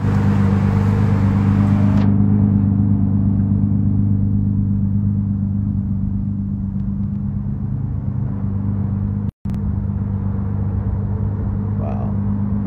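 A Ford GT Heritage sports car drones with a low, steady engine rumble while driving, a brighter whoosh fading out early and a brief dropout near the end.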